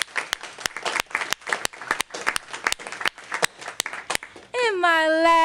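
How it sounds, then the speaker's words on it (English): Scattered claps from a modest audience at a school superintendent's report greet the graduates, sparse and uneven, before a sustained, wavering tone abruptly takes over near the end. "Let's give all of our graduates a round of applause."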